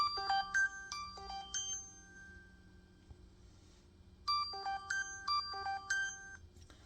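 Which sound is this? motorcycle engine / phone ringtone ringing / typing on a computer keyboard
phone ringtone ringing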